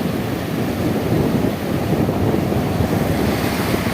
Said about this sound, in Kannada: ದೊಡ್ಡ ಅಲೆ ಬರ್ತಾ ಇದೆ ನೋಡಿ